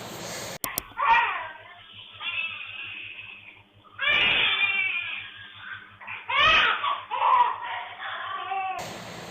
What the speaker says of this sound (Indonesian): kalian bisa dengar tangisan bayinya tuh benar-benar kayak sakit banget